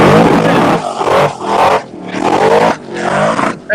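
A race car engine revs hard up to the rev limiter in several loud, close bursts with brief dips between them, a harsh bouncing roar filling the whole stretch.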